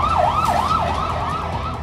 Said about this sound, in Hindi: युद्ध का सायरन बजने लगा है।